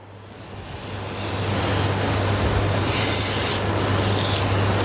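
Lamb loin searing in a hot pan gives a steady, loud broadband sizzle that swells in the first second and then holds evenly close by, with a low hum underneath and no talking.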